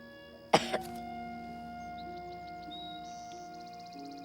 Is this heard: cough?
yes